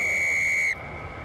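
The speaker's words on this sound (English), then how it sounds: "And Paul Williams blows the whistle." Referee's whistle signalling kick-off at a North versus South rugby match: a single loud, steady high blast lasting most of a second, then cut off, leaving crowd murmur behind.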